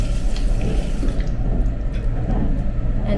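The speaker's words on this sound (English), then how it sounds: "There's soap and running water." A train bathroom sink tap on a business-class carriage runs steadily, a close and loud continuous rush of water that fills the whole short stretch.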